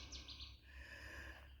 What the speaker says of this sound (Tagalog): May huning mga ibon.